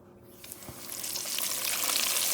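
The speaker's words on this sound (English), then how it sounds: "we're gonna go back to live speaking so that you can hear this stuff fry" Chicken thighs frying in hot oil in a pot, a steady crackling sizzle that builds and grows louder over a couple of seconds, close by with no talk.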